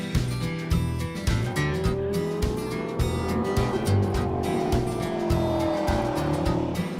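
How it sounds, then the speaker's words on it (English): A Ferrari Scuderia race car engine roars continuously and close by, its pitch rising and falling through gear changes with rhythmic bursts of revving. "This is a Ferrari Scuderia."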